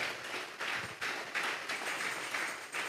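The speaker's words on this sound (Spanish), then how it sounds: "Vamos a regalarle ofrenda de palmas al Dios de la gloria" A church congregation clapping together as an offering to God, a steady rhythmic clap roughly every third of a second, fairly soft and diffuse as if heard from across the hall.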